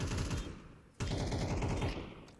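Video game gunfire in a Counter-Strike style match at an esports event: two loud, fast bursts of automatic rifle fire, close and sharp, split by a brief pause.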